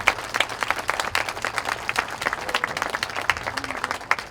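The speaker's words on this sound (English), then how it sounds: "give them a round of applause" Scattered, irregular clapping from an audience at an Oglala Lakota code talker dedication ceremony, moderately loud with distinct individual claps throughout.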